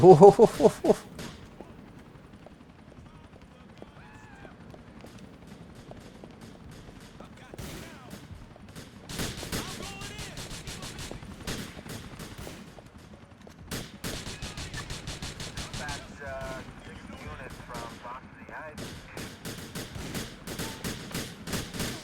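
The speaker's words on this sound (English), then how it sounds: "lots of shooting" Gunfire in Grand Theft Auto IV during a gang shootout, with bursts of rapid automatic shots and scattered single cracks coming in clusters, some near and loud, others softer, across a long stretch with little talk.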